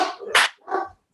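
Dogs barking, two or three sharp barks in quick succession, close and fairly loud, then silence.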